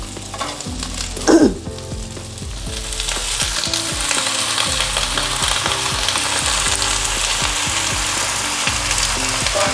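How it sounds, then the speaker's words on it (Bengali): Vegetables fry with garlic and nigella seeds over raised heat for a mixed vegetable curry, a loud, steady sizzle broken by stirring scrapes and a sharp burst near the start. "এবার সবজিটা দিয়ে দিলাম, আঁচটা বাড়িয়ে দিলাম"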